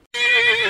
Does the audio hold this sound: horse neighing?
yes